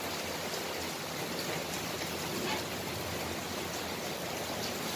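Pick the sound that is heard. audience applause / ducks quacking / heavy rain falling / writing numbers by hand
heavy rain falling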